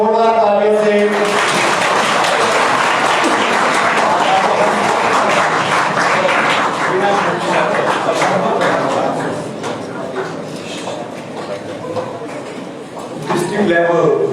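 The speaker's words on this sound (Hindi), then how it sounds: "बेटा जोरदार तालियों से" An audience at a district-level youth parliament competition bursts into loud, sustained applause, dense clapping that stays steady for several seconds, then thins before swelling again at the end, with voices faintly mixed in.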